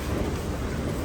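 A commuter train rumbles through a station at rush hour in Malaysia, a steady broadband roar with low rumble and no distinct pauses. Close and constant, without speech.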